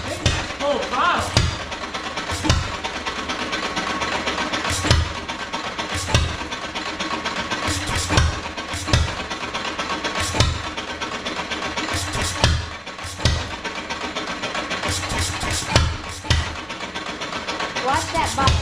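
A 1923 Z Morse Fairbanks hit-and-miss engine runs with a steady chugging, punctuated by periodic sharp firing beats roughly every second or two, heard close under a continuous mechanical hum while a person talks now and then.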